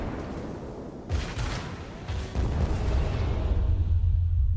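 Naval artillery shells from the battleship Iowa landing in the World of Warships game, a couple of soft booming impacts about a second apart over a steady rumbling background, rising to a louder continuous roar.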